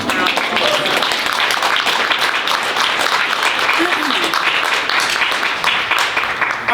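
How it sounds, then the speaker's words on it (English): Audience at a poetry reading in a bookstore giving a round of applause, loud, dense and sustained clapping throughout with some voices mixed in. "Can we just give them a round of applause?"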